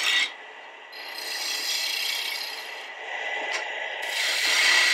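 Wood lathe spinning a wooden gonk blank while a tool tapers the body, a steady close rasping cut with a continuous high whir that swells and eases as the tool moves, no talk.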